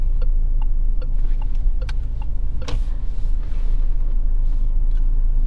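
A Peugeot 508 on the move, heard from inside as a steady low road rumble and engine hum, with a few faint ticks and clicks over the drone.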